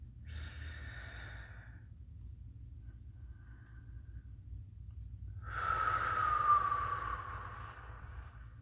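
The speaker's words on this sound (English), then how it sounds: "take a deep breath. Hold it for a beat or two and let it out as slowly and as long as you possibly can" A deep breath is drawn in, held through a near-silent pause, then let out in a long, slow exhale, soft and close over a low background rumble.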